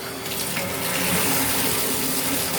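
Water gushes hard from a bathtub faucet in a steady, loud, close rush of splashing and hiss that stays constant throughout, with no voices.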